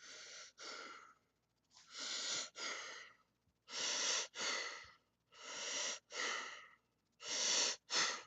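A person imitates heavy breathing with about ten loud, close, rasping breaths, paired in rhythmic in-and-out pulses with short pauses between.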